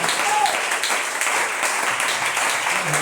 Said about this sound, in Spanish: Den un aplauso fuerte al Señor en esta hora.